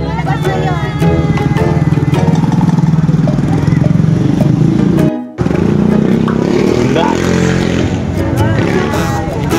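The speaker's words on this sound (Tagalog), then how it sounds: "Ito pala yung motor ko." A motorcycle engine running close by, loud and steady with a brief cutout midway, while people talk nearby outside a workplace at pickup time.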